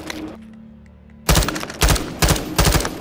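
Gunfire in the video game Call of Duty: Modern Warfare II, with several heavy bursts of rapid shots in quick succession, loud and close. A quieter stretch of game ambience comes before them.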